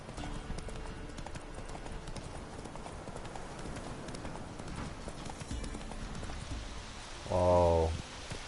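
Hooves of the horse Roach clip-clop steadily at a gallop in The Witcher 3, with rain pattering faintly behind and a short neigh near the end.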